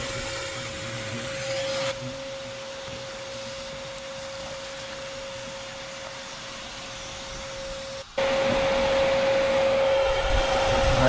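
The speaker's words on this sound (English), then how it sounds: "I'm going to let this vacuum catch a bunch more" A vacuum sucks hornets out of a nest inside a tree trunk, a loud, steady motor whine and rushing airflow droning without pause, briefly dipping and surging back near the end.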